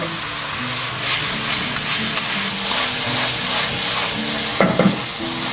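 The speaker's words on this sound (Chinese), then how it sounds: "像这样把肉丝炒至变色了，我们下入料头" Shredded pork and aromatics stir-fry in a wok for sour cabbage pork, with a continuous loud sizzle, rhythmic stirring and scraping, and a sharp metallic clank near the end.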